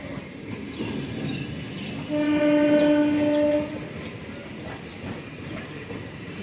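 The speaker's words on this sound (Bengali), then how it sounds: "দেখুন শিয়ালদার ট্রেন ঢুকেছে" A Sealdah-bound train rumbles into a station, and a loud two-tone horn blares for about a second and a half before the steady rolling noise carries on.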